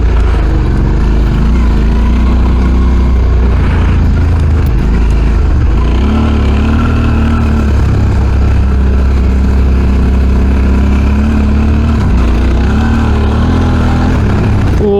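An adventure motorcycle rides on a loose gravel track, its engine droning steadily with shifting revs over heavy wind and road rumble, loud and continuous without speech.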